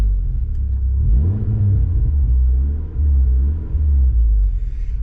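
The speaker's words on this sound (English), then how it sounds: "So that exhaust note, it's a nice rumbly sound, but it's not in your face." An MG ZR 160 engine's deep exhaust rumble runs steadily throughout, rising and falling slightly with throttle, close and fairly loud.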